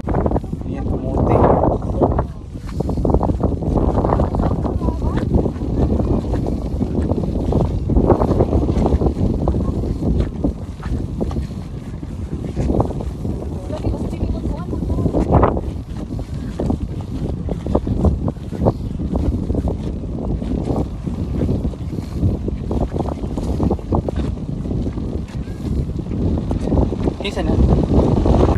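Strong wind gusts across an outdoor rural hillside in the Philippines, roaring steadily and buffeting the microphone throughout while someone talks over it.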